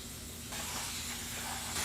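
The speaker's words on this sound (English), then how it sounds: "Finally, give it another spray of water." A spray bottle mists water over soil in a microgreens tray: a continuous close hiss that steps up in loudness partway through and holds steady.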